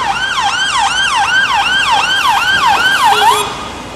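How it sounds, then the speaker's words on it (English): A loud ambulance siren wails in rapid, repeating up-and-down sweeps close by on a street in Edinburgh, then fades slightly as it moves away. "I'll just give it a minute for this ambulance to pass."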